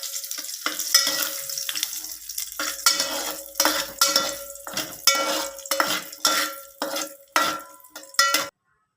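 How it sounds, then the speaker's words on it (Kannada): Dry fruits fry in a pan until golden brown, a soft sizzle under frequent rhythmic scraping and clinking of a spoon stirring against the metal, close and without talk. "ಇದನ್ನೀಗ ಗೋಲ್ಡನ್ ಬ್ರೌನ್ ಬರೋ ತನಕ ಫ್ರೈ ಮಾಡ್ಕೊಳ್ಳೋಣ."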